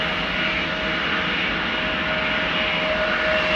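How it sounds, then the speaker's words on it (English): An Embraer 190 jet departing Amsterdam Schiphol gives a steady, fairly loud engine roar with a faint high whine running through it, unbroken across the whole stretch. "It's the Embraer 190 to Hanover."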